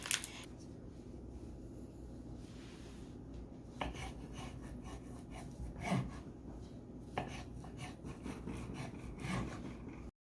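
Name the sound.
cutting cheese franks into bite-sized pieces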